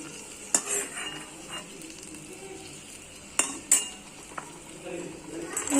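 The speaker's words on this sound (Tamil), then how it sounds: "காஞ்ச திராட்சை நான் ஆட் பண்ணுறேன். பொன்னிறமா வதங்கினோடனே நம்ம இதை இந்த பவுலுக்கு மாற்றிடுவோம்." Dried raisins frying in a pan for Tamil sweet aval, a soft continuous sizzle broken by a few sharp clinks and scrapes of a spoon stirring against the pan, close by with no talking.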